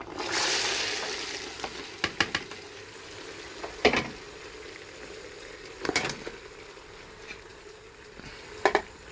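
Chopped vegetables frying in seasoned oil in a pot for curry goat, a steady hiss of sizzling that starts loud and settles, broken by several sharp clanks and scrapes of stirring.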